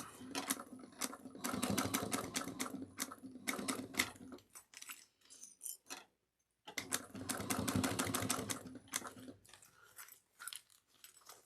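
A sewing machine stitches a mini dual-compartment cross-body bag in steady rapid bursts, running about four seconds, pausing briefly while the bag is squished and maneuvered, then running again, close and fairly loud.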